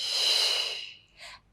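A single strong breath drawn in through the nose during a Pilates mat exercise, close and loud, tapering over about a second, followed by a brief softer breath sound.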